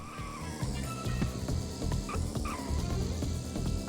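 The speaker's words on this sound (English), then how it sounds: "there's a power slide on the right bumper" A kart's tires squeal and skid through a power slide in the video game Moorhuhn Kart, with short screeches over a rumbling engine drone and busy game sounds.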